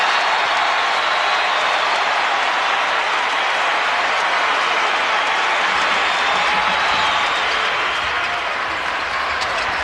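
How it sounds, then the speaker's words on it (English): Sellout basketball crowd at Indiana at Purdue cheering and applauding, a loud, steady roar of thousands of fans that fills the whole stretch with no break. "And listen to this sellout crowd."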